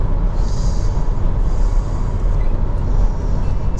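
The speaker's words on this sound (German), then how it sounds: "So viel Verkehr." Heavy motorway traffic near Mannheim and Altrip rolls past as a continuous, loud, broadband roar of cars and trucks, steady throughout with no speech.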